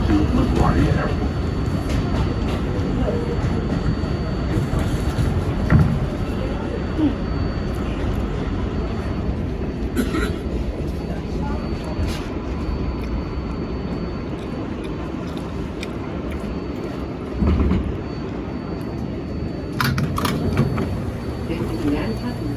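R188 New York subway 7 local train running between stations, a steady close rumble and rattle of wheels and car body with occasional clanks, continuous for the whole stretch.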